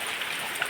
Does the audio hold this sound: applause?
no